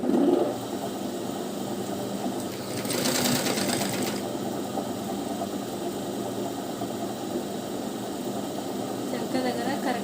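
A sewing machine runs a continuous steady stitch along the side seam of a lined blouse, a close mechanical hum with a brief louder burst partway through.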